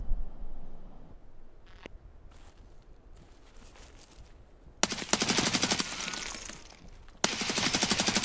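Enemy gunfire rings out in the video game Escape from Tarkov: faint distant shots early on, then two loud, rapid bursts of automatic fire, with no voices.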